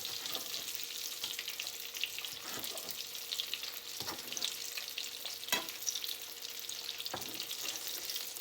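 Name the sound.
croquetas frying in oil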